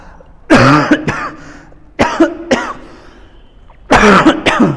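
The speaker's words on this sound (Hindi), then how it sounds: "अभी अंडर वेदर है, खांसी हो जाती है" A person with a cold coughs and clears their throat in three separate rough, harsh bursts. Each burst is loud and close, with short quiet pauses between them.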